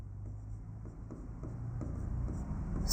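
A teacher writes a definition on a board, giving soft, steady scratchy strokes at a moderate distance, growing slightly louder toward the end, with no voice over them.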